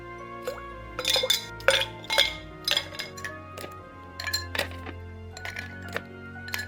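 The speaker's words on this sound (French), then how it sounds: "On ajoute la glace dans les 2 verres à mélange." Ice cubes drop into two cocktail mixing glasses, making a run of bright, close glassy clinks and rattles in uneven bursts with short pauses between them.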